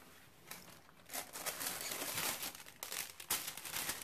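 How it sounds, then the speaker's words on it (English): Plastic packaging around bias binding crinkles and rustles in close, uneven bursts for several seconds during a home sewing session, with no voice over it. "excuse the rustling"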